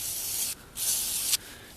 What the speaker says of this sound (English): I'm just going to spray it with the cleaner and let the cleaner do the work.